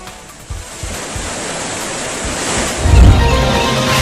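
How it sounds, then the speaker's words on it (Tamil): Floodwaters roar over Kumbakkarai falls in Theni, a loud, steady wash of rushing water that swells and grows heavier toward the end, with no voices. "கும்பக்கரை அருவியில் இன்று வெள்ளப்பெருக்கு ஏற்பட்டிருக்கிறது"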